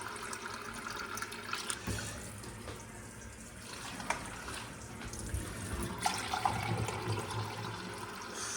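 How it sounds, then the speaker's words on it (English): Tap water runs steadily into a pint jug, a continuous hissing splash, fairly quiet and close, with slight shifts in tone as the flow changes and no talking. "I'm going to turn the tap on and then do 5 of these."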